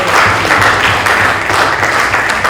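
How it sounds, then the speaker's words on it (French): Audience at a panel discussion applauds a doctor in loud, dense, continuous clapping that holds steady throughout. "Je vais lui demander, si possible, d'applaudir Dr Alice pour un peu plus d'encouragement."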